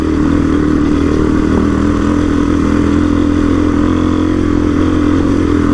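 A Suzuki DRZ dirt bike runs off-road on a trail ride in the ACT, its engine a loud, close, continuous drone holding a steady pitch with a slight rattle of chassis clatter.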